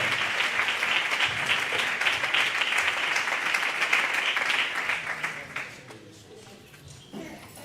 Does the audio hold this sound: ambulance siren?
no